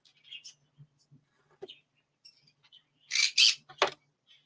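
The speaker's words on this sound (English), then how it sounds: "Are you wanting attention, Big Bird?" A pet bird gives scattered chirps and soft calls, then a burst of loud, harsh squawks close by in a quiet room.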